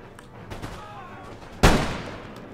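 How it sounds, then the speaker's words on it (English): Artillery fire during a Napoleonic-era battle in Empire Total War, a single sharp, loud cannon blast with a decaying rumble after quieter distant battle noise and faint shots. "Absolutely devastating artillery shots."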